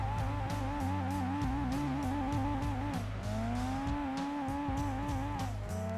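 A car in the Gran Turismo 2 racing game struggles to launch off the line, its engine holding a buzzy, droning whine that dips and climbs again midway, steady and unbroken over rhythmic game sound.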